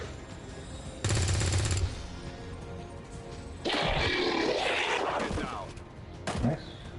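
Gunfire in the XCOM 2 video game as a soldier fires on an alien, a short loud burst followed by a longer roaring blast and a final thump, with game noise between the shots.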